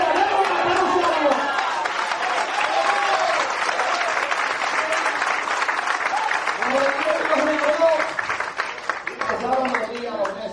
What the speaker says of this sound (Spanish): Demos un aplauso a Dios.